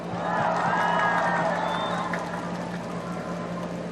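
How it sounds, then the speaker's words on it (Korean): A crowd at an outdoor election rally in Nowon-gu, Seoul, claps and cheers loudly and steadily, with scattered whoops and voices mixed into the applause and a low electrical hum underneath. "고생하시는데 박수 한번 주세요."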